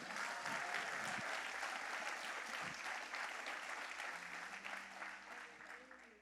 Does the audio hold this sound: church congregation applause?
yes